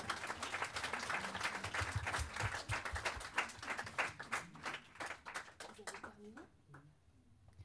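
Audience applause for a group of participants at a French community gathering, dense clapping mixed with a voice speaking over it, thinning out toward the end.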